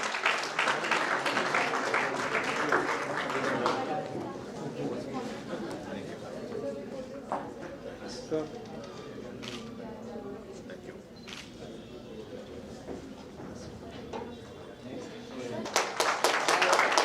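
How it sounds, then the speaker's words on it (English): Audience applause at a speech competition opens and closes the stretch, with scattered clapping and crowd chatter in between. "Give a round of applause to the youngest man in the house."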